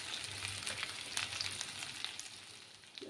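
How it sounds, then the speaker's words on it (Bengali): Pieces of ghati kachu (taro) frying in a pan, a soft continuous sizzle with light crackles, fairly quiet and close. "আরও কিছুক্ষণ একটু ভাজবো আমি গাঁঠি কচুগুলোকে,"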